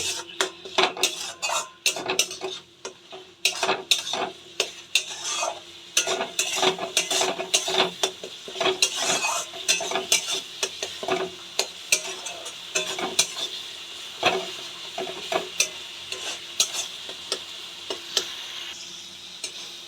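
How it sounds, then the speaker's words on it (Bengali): Spice paste with coriander powder stirred and fried in a pan, a metal spoon scraping and clinking rhythmically against the pan over a steady sizzle, loud and close with no voices. "সামান্য আমি 1 চামচের মতো ধনে পাউডার দেব। এবার আমি ভালো করে কষিয়ে নেব।"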